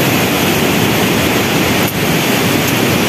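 Fast-flowing river water at the Ranchan Pool recreation area in Serian, a loud, steady broadband rush that fills the whole stretch without pause or voices.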